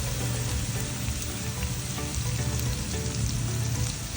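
Onion fries in a pan with salt added, a continuous dense sizzle and crackle like light rain, steady and close throughout with no voices.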